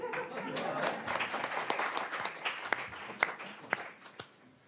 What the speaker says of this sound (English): I thought that deserved an applause.